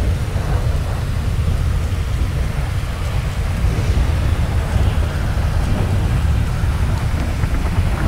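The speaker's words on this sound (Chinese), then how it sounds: "这个下大雨真是很难徒步前进" Heavy rain pours without a break inside the GTA 5 game world while thunder rumbles low underneath, loud and dense all through, with no speech.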